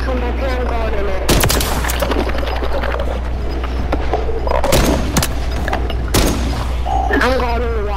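Sharp, loud sniper shots ring out in a multiplayer shooter game with tanks and a watchtower, a few separate cracks spaced seconds apart over steady game noise, with players talking throughout.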